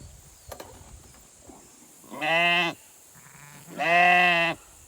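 Sheep held in a homemade trailer give two loud, drawn-out bleats close by, about a second each, separated by quiet shuffling and faint knocks.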